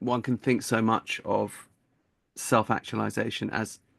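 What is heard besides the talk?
No everyday noises stand out.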